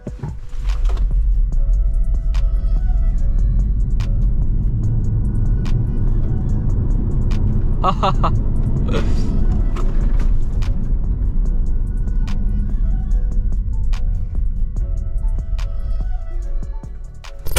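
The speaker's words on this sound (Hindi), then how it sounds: "फिर चेक करते हैं कि 0 से 100 का जो टाइम है वो कितना इस गाड़ी को लगता है।" A BYD Sealion 7 electric SUV, premium variant, does a 0 to 100 km/h acceleration run. A loud, steady, low road and tyre rumble fills the cabin throughout, with a few faint clicks and ticks.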